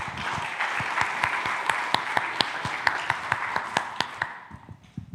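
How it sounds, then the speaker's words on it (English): A conference room audience at a Kubernetes community event applauds to welcome a speaker, sparse, distinct claps from a modest crowd in a steady patter that thins out and fades near the end. "Please, a big applause to welcome Dominik on the stage."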